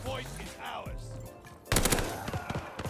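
Rapid automatic fire from a PPSh-41 submachine gun in the video game Call of Duty Vanguard, a loud close burst of fast shots in the second half after quieter game sounds, with a player talking over it.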